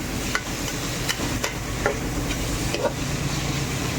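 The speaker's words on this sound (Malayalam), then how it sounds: "ചെമ്മീൻ ഇവിടെ ഫ്രൈ ആകുന്നുണ്ട്" Prawns fry in a pan with chopped jaggery, coriander and mint for a prawn biriyani, crackling with a steady sizzle while a spoon stirs and scrapes at irregular moments, close and loud.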